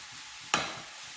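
A single sharp scrape and sizzle as boneless chicken pieces are stirred in a hot pan, with a brief hissing tail fading over a quiet background.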